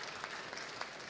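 Audience applause at a nuclear industry workshop on advanced fuels, a steady wash of many hands clapping, fairly faint and distant, with a few sharper claps standing out.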